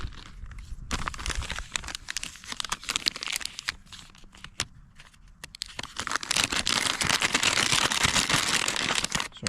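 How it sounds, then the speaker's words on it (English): MRE chili with beans packaging crinkles and tears up close, in a steady run of crackly rustling that swells louder toward the end, with no one speaking. "Sorry for the crinkling."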